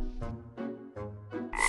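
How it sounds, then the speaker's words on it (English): Cartoon frogs croak in four loud, evenly spaced bursts, each a rough, buzzy croak close to the listener, ending in a brighter burst of sound effect. "Five frogs singing."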